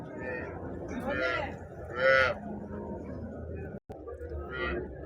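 Two HF calves mooing at a busy weekly cattle market in Husnabad, a couple of drawn-out moos rising over background chatter and crowd noise.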